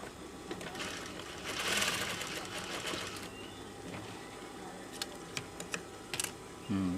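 A sewing machine runs in short bursts of rapid stitching while a pocket is attached to a woman's blouse, then stops with a few clicks and handling sounds, heard close with no talk.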